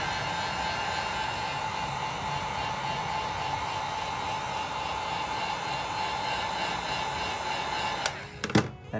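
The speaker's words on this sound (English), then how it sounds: "After you do your first coat, go in and dry it with the heat gun." A heat gun blows steadily while drying a first coat of paint on Jordan 3 "White Cement" sneakers, a loud continuous whooshing hiss that runs unbroken for about eight seconds and then cuts off.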